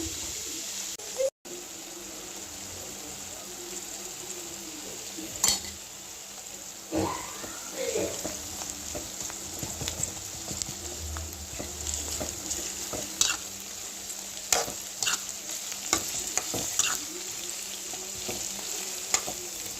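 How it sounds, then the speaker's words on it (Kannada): Onions fry golden in a pan for jeera rice, sizzling steadily with repeated scrapes and clinks as a spatula stirs them, plus a few louder knocks and brief quiet gaps over about twenty seconds. "ನೋಡಿ ಫ್ರೆಂಡ್ಸ್ ಇವಾಗ ಈರುಳ್ಳಿ ಎಷ್ಟು ಚೆನ್ನಾಗಿ ಬೆಂದಿದೆ ಅಂತ"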